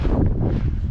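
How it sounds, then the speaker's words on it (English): Wind buffeting the microphone outdoors during a slippery trail run while ultra marathon training, a loud continuous low rumble with no voices. "And it's windy."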